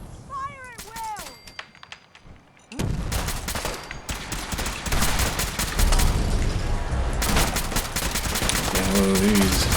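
Sustained heavy gunfire from the Far Harbor expansion of Fallout 4, fought against gulpers on Very Hard difficulty, with dense overlapping shots and booms after a quieter start where a creature-like whine and voices are heard.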